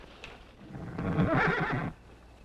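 A single loud, wavering horse neigh lasting about a second, with faint hoof clops, near at hand during a tense frontier standoff outside a house.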